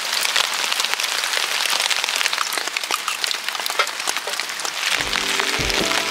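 Steady rain patters on a camping tent on a cold, wet morning during a downpour, a dense close hiss of drops that runs continuously throughout, with a few low knocks near the end.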